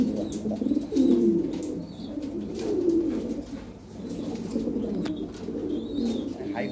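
Lahri Siraji pigeons coo in low, repeated bursts close by, with soft background chatter and rustling around them.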